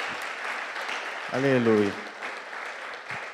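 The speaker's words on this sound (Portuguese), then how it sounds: "Você pode dar uma salva de palmas para Jesus?" Congregation applauding in a church, a steady crowd clapping throughout, with a voice briefly calling out over it partway through.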